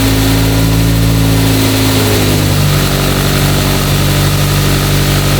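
An engine with its throttle stuck open roars loudly and continuously close by, the pitch holding high with a slight shift partway through and never dropping back to idle.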